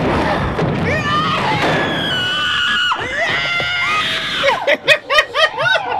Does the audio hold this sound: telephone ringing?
no